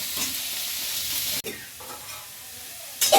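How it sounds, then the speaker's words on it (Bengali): Chilli leaves fry in a hot wok with a steady, close sizzling hiss and the scrape of stirring, broken by a short pause and a sharper burst of sizzle at the end. "লঙ্কার পাতা দিয়ে ভাজছে"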